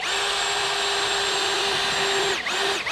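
A power drill drives a single screw into self-milled lumber deck boards at an off-grid cabin, a close, steady high-pitched whine that dips briefly near the end before resuming.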